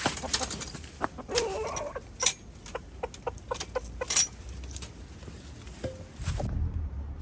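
Chickens clucking inside a winter coop, scattered close clucks and short calls over soft scratching and pattering, ending with a low rustle.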